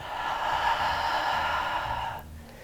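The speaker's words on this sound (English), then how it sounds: "and breathe out." A long, steady exhale through the mouth while holding a yoga plank pose, a soft breathy rush close to the ear that tapers off near the end.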